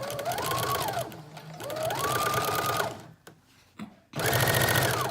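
A sewing machine stitches a 5/8 inch seam on a fluffy teddy bear fabric jacket collar, running in two long loud bursts, then a brief pause with small clicks before a third steady run.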